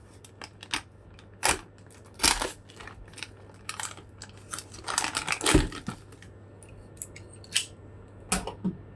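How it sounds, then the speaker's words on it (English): A cheap utility knife slicing into the cardboard box of a Retroid Pocket 2 Plus handheld, a series of sharp, close scraping cuts and crackles separated by short pauses. "start with the unboxing with my trusty, super cheap utility knife. I'm just going to cut right into this"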